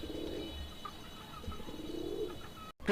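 A pair of desi gola pigeons cooing at a pigeon sale, soft low repeated coos over a quiet background, fairly faint and close, ending in a brief dropout.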